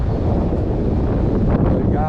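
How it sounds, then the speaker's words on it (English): North wind blows across open water near a boat, a continuous loud rush of gusting air buffeting the microphone with no breaks. "I hope that north wind just keeps blowing"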